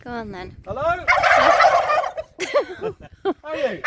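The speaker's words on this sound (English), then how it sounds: "Oh my God, look at those turkeys." Turkeys gobble loudly and close by in a sustained rattling burst, followed by a series of shorter yelping calls, while a person talks to them in between.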